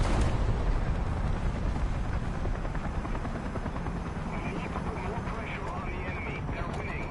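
A helicopter flying in the War Thunder video game, heard as a dense, continuous rotor roar that stays loud throughout, with game noise and a voice talking over it.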